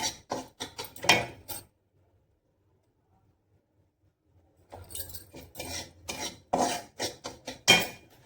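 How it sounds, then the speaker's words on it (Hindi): Dishes washed by hand at home, heard as close clinking, scraping and rubbing in quick bursts, then a few seconds of near silence before the scrubbing resumes. "ये अब मैं थोड़ा सा काम करूँगी, मुझे थोड़े से बर्तन धोने हैं बेसिकली"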